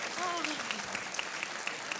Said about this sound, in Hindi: तालियां बजती रहनी चाहिए देवी और सच में।